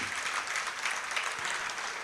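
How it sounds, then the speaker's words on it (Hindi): At a Jain monk's sermon in Nagpur, a seated congregation claps in a steady wash of applause, even and moderately distant, with no speech over it. "उनके लिए एक बार ताली बजा दो आप लोग।"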